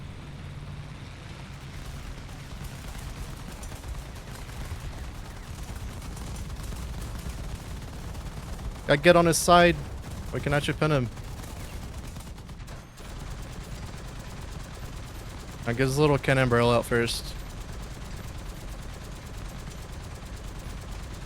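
Bursts of .50 caliber machine gun fire from a T77E1 anti-aircraft vehicle in the War Thunder tank game, two loud rapid-fire bursts over a constant engine rumble, with a voice talking before and between them.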